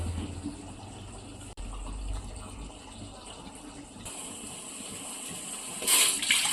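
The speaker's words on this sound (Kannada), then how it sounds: "ಈಗ ನೀರು ಹಾಕತ್ತೇನೆ ರೀ ನಾನು" Water pours steadily into a large cooking pot on a gas stove, ready for boiling rice for chicken biryani, a continuous close gush with a louder splash near the end.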